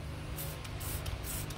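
Soapy bubble water being sprayed onto a Power Gear Trueline air leveling system to check for leaks, a few short hissing spray bursts close by over a steady background hum.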